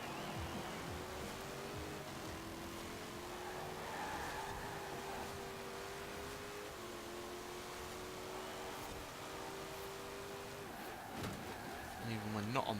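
An off-road car in Forza Horizon 4, jacked up with wider off-road tyres and a wider track, drones steadily with a rising engine note under continuous talk, ending in some louder scrabbling.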